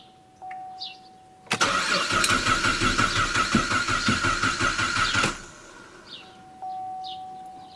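A Cadillac engine with a crank-no-start fault cranks for about four seconds on a start attempt, a loud rhythmic chugging of the starter that stops without the engine catching.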